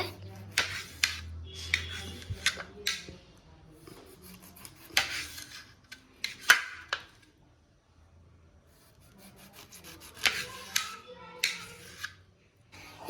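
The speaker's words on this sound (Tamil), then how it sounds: "இப்போது எங்கள் அப்பா கட் பண்ணுற மாதிரி நீங்களும் லெமனை கட் பண்ணிக்கோங்க" Knife slicing through a lemon on a board at home, several soft close cuts and rubbing scrapes with quiet gaps, fairly faint.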